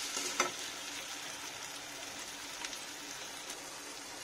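Tomatoes frying in hot oil for a jackfruit curry, a steady close sizzle with a few soft stirring scrapes, one sharper clink near the start, and no voices.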